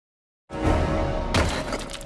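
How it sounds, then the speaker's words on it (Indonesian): A wall punched and smashed apart in a martial arts film scene, heard as a loud, dense burst of crashing impact that swells into a second harder smash partway through, with rumbling debris continuing to the end. "menunjukkan kekuatannya dengan memukul tembok hingga hancur"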